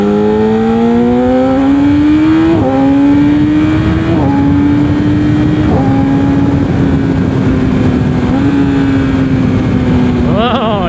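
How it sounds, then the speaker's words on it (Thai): A Yamaha R6 motorcycle ridden at night, its loud engine droning close up and rising in pitch through several gear shifts, with brief dips between gears and a steady rushing wind roar. "ทำไมเรามาขับรถเสียงดังรบกวนเราตอนกลางคืน"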